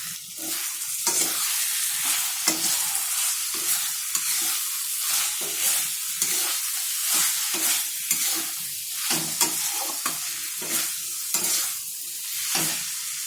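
Spices for a fish curry fry loudly in a pan under a constant close sizzle, while a spoon scrapes and stirs in a repeated rhythm throughout.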